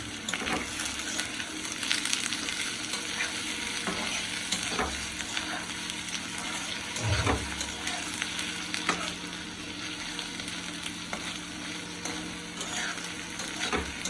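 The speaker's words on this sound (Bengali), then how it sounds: "তেলের মধ্যে পনিরটা দিয়ে দিচ্ছি, যেহেতু পনিরটা আমি বেশ বড় বড় করে কাটছি" Large pieces of paneer frying in hot oil produce a steady, loud sizzle throughout, with occasional soft knocks from stirring.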